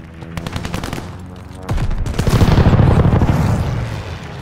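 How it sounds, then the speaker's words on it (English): Rapid machine-gun bursts followed by heavy rumbling explosions from an airstrike in COD Mobile, loud and close, building into a dense sustained barrage of booms. "Airstrike coming in hot."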